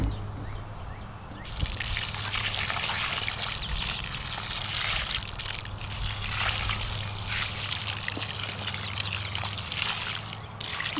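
Steady stream of water, about 10 gallons, pouring and splashing onto the ground around a newly planted orchard tree, continuous and close, with a faint low hum underneath.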